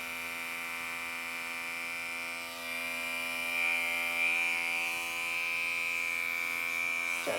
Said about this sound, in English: Keep the clipper against the head.